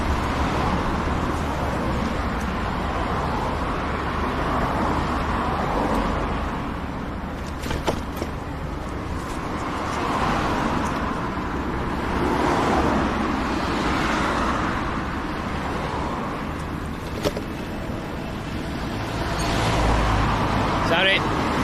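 A car overtaking on the road: steady road and engine rumble from inside a vehicle, with broad whooshing swells as traffic passes alongside, and voices heard at times.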